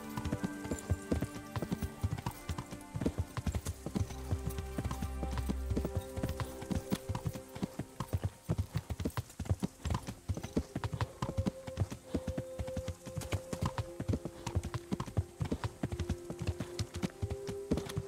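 Steady horse hooves clip-clopping in a quick, regular rhythm in the video game Kingdom Come: Deliverance, layered with game music and busy background sounds throughout.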